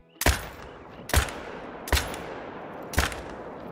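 Four sharp AR rifle shots fired at a rock in the hunting game Call of the Wild, spaced about a second apart, each a loud crack with a short fading tail.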